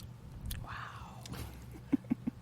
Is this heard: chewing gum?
yes